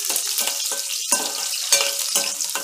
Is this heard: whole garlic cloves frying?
yes